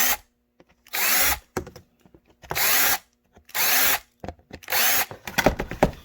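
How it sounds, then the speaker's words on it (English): A power deburring tool whirs in four or five short, loud bursts with brief pauses between, cleaning the drilled holes in a Kydex OWB holster, followed by some light scraping and handling noises. "And you're going to deburr all the holes."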